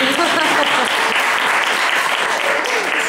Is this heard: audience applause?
yes